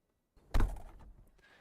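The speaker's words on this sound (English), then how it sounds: "Close the door." A Cirrus SR22 aircraft door in the X-Plane 12 flight simulator shuts with a single close, solid thunk and a short rattling decay, followed by a faint hum.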